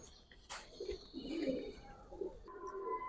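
Giribaz pigeons coo in a few soft, rounded bursts at low volume, over a faint tonal hum and a brief rustle near the start.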